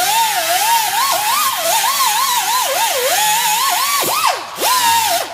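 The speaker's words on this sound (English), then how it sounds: "the best thing to have is a little angle grinder like this and" A small angle grinder with an abrasive disc grinds rust off a front brake hub on a 2001-2012 Ford Escape. It gives a loud, steady high whine that dips and wavers in pitch as the disc bites, with a brief drop near the end.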